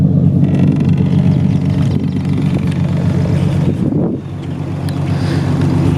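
Exhaust on a 2008 Ford Mustang rumbles steadily up close, a deep continuous drone with a buzzy vibrating rattle, loud throughout with a brief dip near the end and no talking.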